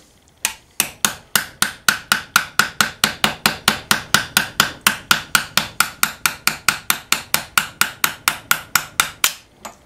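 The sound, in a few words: hammering out a bearing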